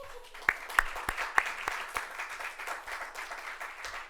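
Scattered audience clapping for the grand marshal of the 2024 National Puerto Rican Day Parade at a New York City press conference, a few sharp near claps over a thin, fading patter.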